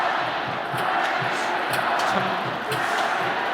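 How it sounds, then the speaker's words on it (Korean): Stadium crowd cheering at the 2022 KBO Korean Series championship ceremony for the SSG Landers, a dense, steady roar of many fans with a commentator talking over it. "그리고 팬들이 또 환호를 보내줍니다."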